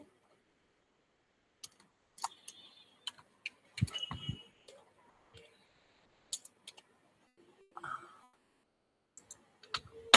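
A name is typed on a computer keyboard, sparse light clicks and short clusters of keystrokes separated by quiet gaps, close and soft.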